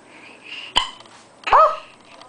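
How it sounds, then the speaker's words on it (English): A five-month-old baby hiccups twice, each a sharp, close little gasp-like catch about three-quarters of a second apart, the second longer and more voiced, with quiet room tone between. "Oh! Hiccup!"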